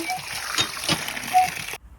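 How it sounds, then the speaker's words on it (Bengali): Water splashes and sloshes as bananas are washed for a village banana bharta, a few brief splashy bursts close up, then stopping abruptly. "তারপর আমরা কলাগুলো ভালোভাবে ধুয়ে নিলাম।"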